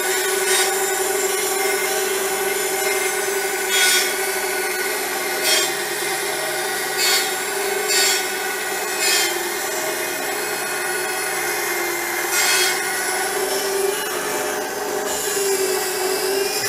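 An 8-inch bimetal band saw blade cuts through wood containing embedded nails, giving a steady, loud rasping drone with repeated brighter scraping bursts throughout.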